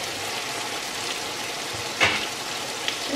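Tomatoes cooking in a pan for a tomato bulgur pilaf, giving a steady soft sizzle with a brief louder stir or clatter midway.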